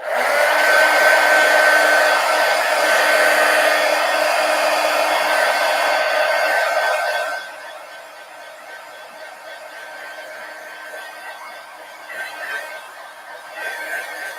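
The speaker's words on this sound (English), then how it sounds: "let me hit this with a heat gun" Heat gun blowing hot air to dry layers of paint, a loud steady whirring blast for about seven seconds that then drops to a quieter hum, with faint laughter and chuckling near the end.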